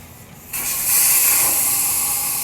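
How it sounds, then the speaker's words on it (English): Air hissing steadily out of a motorcycle tire with the valve stem core removed, close and loud, swelling to a strong continuous rush after a brief quieter start. "Make sure you let all the air out."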